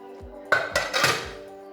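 A pot lid is lifted off a pot of soya biryani in a home kitchen, giving a few close metallic clanks and clinks over about a second, then fading.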